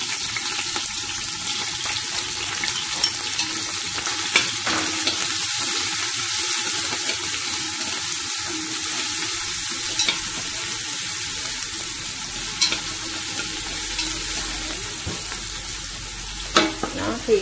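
Steady sizzling of lemongrass and minced shallots frying in a hot pan for duck curry, with occasional clinks and scrapes of stirring throughout; close and continuous, no talking.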